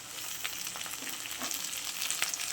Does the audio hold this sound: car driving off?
no